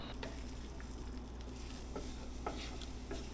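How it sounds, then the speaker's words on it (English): A steady, crackling sizzle of eggs frying in a pan, with a few soft stirring scrapes and clicks on top. "hear that sizzle?"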